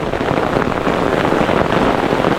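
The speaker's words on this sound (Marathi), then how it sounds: "मोठा पाऊस आला एकदम" Heavy rain pours down in a dense Konkan forest during the monsoon, a steady, loud broadband hiss of drops on leaves and ground that fills the whole stretch without pause.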